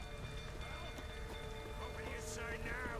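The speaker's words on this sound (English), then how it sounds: "Looks like rain." Steady rain patters in The Witcher 3, a soft, even hiss of drops on surfaces with faint game sounds and tonal hum mixed in, quiet and continuous throughout.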